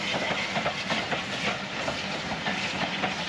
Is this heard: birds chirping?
no